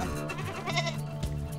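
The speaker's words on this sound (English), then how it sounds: "Get that goat." A goat bleats up close in a rural mountain setting, one drawn-out wavering cry with a second short bleat near the end, loud and clear with no talk over it.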